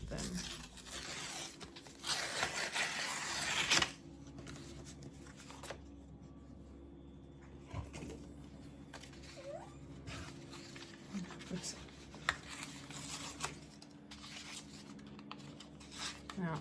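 Paper being torn by hand into strips for a 12x12 craft book, with a loud burst of ripping early on, then quieter, intermittent tears and rustles close by.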